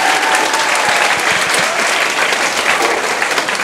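Dense, steady applause fills a hall as an audience claps for successful postal civil-service exam candidates in their fifties, a continuous loud wash of many hands throughout.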